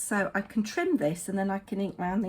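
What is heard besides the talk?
None of the usual background noises is heard.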